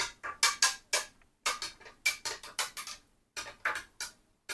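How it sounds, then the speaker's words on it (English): A metal bar spoon stirring ice in a glass of Nigerian Chapman clinks in quick rhythmic bursts of bright rattles, close and clear, with brief pauses between strokes and no talking. "I have with me here my bar spoon. So I'll just stir everything together."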